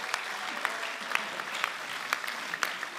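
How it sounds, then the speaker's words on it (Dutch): Audience applause greets a jury member being introduced at a singing competition show, steady even clapping with individual claps standing out, moderately loud throughout. "Esther Proens, applaus."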